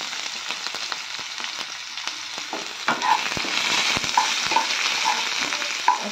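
Chopped onions with cumin sizzling in hot oil, a steady close crackling hiss with occasional spoon stirs and scrapes against the pan, growing slightly louder midway.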